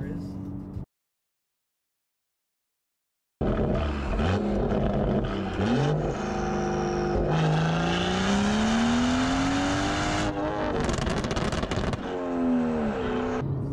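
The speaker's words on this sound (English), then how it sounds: "That's why I never really realized how loud my car is." A BMW 340i engine revs loudly after a brief silence, rising and falling in pitch through several strong sweeps, close and sustained with no talk over it.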